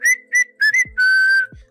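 Human whistle sound effect after a baseball strikeout during a Yankees spring training broadcast, several short bright toots followed by one long sustained note, loud and close with no talk.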